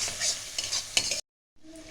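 Masala stir-fried in oil with a splash of water in a pan for Bengali bhola fish curry, with a continuous bright sizzle and several scraping spatula strokes before a brief silence and a quieter return.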